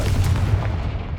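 Confringo fire-blast spell going off in the video game Hogwarts Legacy, one loud, heavy booming burst that rumbles low and fades over about a second, with no voices.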